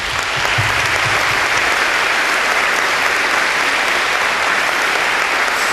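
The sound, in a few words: applause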